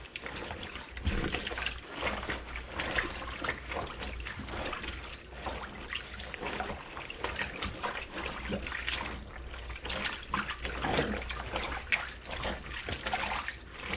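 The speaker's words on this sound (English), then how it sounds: "let's get our garment and we're going to agitate it thoroughly" A rain garment is sloshed and agitated by hand in a tub of water with Nikwax waterproofer, steady splashing and swirling liquid sounds close by, running continuously with no talking.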